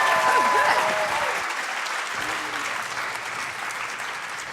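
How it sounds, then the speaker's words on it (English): An audience applauds to welcome a speaker on stage at a design event, a broad, steady wash of clapping and crowd noise that slowly tapers, with faint whoops and voices early on. "Please, a big round of applause, Marian Park!"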